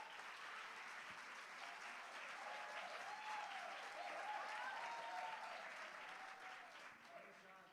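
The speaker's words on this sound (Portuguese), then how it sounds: "E aplaudir a Jesus." A congregation applauds during a Sunday church celebration service, sustained crowd clapping at low level throughout, with faint cheering and singing-like voices mixed in.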